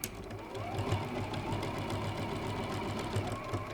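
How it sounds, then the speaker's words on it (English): A sewing machine runs steadily, stitching strips of fabric for a quilted hexagonal panel; the close, continuous mechanical whir carries on without pause for a few seconds. "make sure you remove any pins as you sew past"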